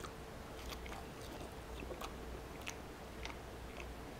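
Soft close-up chewing of fries dipped in peanut sauce, a series of faint irregular crunchy bites and mouth sounds over a quiet room hum.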